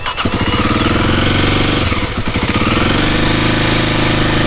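A 2017 Kawasaki KLX motorcycle engine, brand new and unridden, fires up right away and settles into a loud, steady running idle close to the listener, with no talking over it.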